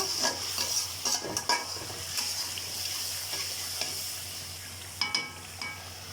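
Chicken pieces and jackfruit seeds fry in spiced oil, a steady close sizzle broken by scraping stirs and clinks of a utensil against the pan, with a louder burst of stirring near the end; no talking.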